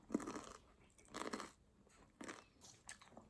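Bites into sweet chodang corn on the cob, giving four separate crisp, crunchy chews spaced about a second apart, close and fairly quiet with no talking.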